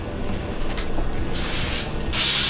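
Aerosol spray can hissing while snacks with mini hot dogs are made, two short bursts growing to a louder sustained spray near the end, over faint room noise.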